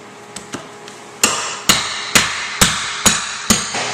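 Hardwood floorboards being loosened and pried up produce a run of sharp, close knocks, a few light taps followed by six or seven evenly spaced, heavier hammer-like blows with short ringing decays.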